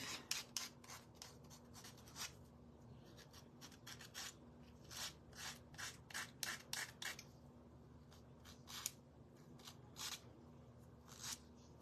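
A small Dollar Tree nail file sands the paint off a painted wooden sign, producing close, quiet scratchy strokes in short irregular bursts with brief pauses between them.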